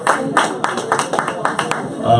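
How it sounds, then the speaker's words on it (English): Scattered audience clapping at a Black political conference in Westchester. Quick, uneven claps come close together for a couple of seconds, mixed with crowd noise. "Let's give another round of applause for Dr."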